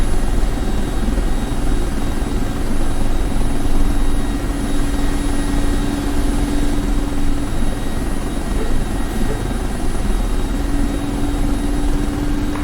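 Engines and rotor of a Mi-24P Hind helicopter in the DCS flight simulator drone loudly and steadily during taxiing, a constant heavy whine and rumble with no breaks.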